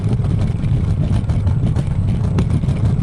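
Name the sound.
noisy motor scooter riding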